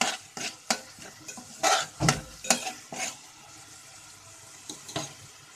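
Whole spices and bay leaf roasting over a high flame in a pan, repeated scraping strokes of a spoon against metal in an irregular rhythm over a light sizzle, close and clear without speech.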